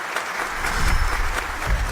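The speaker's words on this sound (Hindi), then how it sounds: "सब तालियों के साथ इनका स्वागत करें।" An audience claps to welcome a performer coming onto a competition stage, with brief, bright, continuous applause that is close and moderately loud, with no talking over it.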